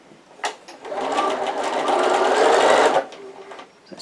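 A sewing machine runs a steady stitching seam straight across a fabric gift box padded with wadding, a continuous close whirring hum lasting about two seconds between a few faint handling clicks.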